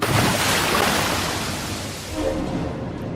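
Strong ocean waves surge and crash against a small boat close by in a loud roaring wash that swells and eases, with gusting wind noise mixed in and no voices.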